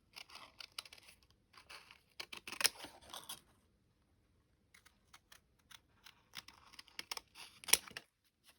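Scissors snipping small leaf shapes out of card along a template, sparse close clicks and crisp cuts in scattered bursts with quiet gaps between.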